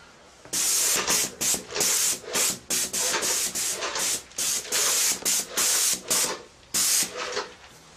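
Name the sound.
spraying decorative stain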